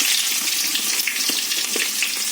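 Onions frying in a pan along with dried red chilies and curry leaves, a dense continuous sizzle with crackling pops, close and loud.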